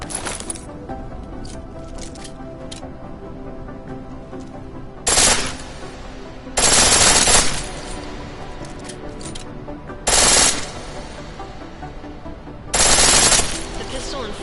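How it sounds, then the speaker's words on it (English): A pistol fires in full-auto bursts in the video game Deus Ex: Mankind Divided, four loud short volleys spaced between quieter game ambience. "The pistol in full auto will take down targets fast, but it'll burn through your ammo"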